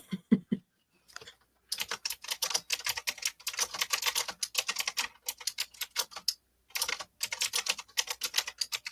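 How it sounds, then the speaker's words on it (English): Rapid clicking on a computer keyboard comes in quick bursts separated by short pauses, close and fairly quiet, with no talking. "Sorry, I'm typing too."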